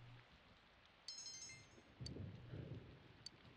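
Rain falling in the video game Persona 4 Golden, a steady hiss of rainfall with a louder swell of low rumbling patter in the second half and a faint high chime early on.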